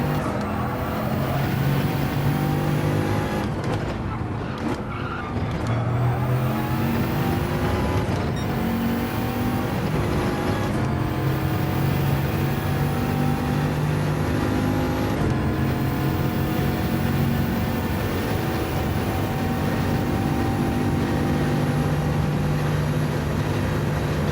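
Steady, loud race car engine note in a Gran Turismo 7 GT1 class race, holding a dense roar throughout with repeated rising pitch sweeps as gears climb and a few abrupt drops around shifts or braking.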